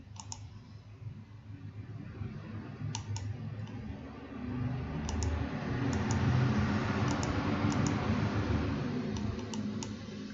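Mouse clicks in a computer program, a few sharp isolated clicks spaced across a steady background hum, with no speech.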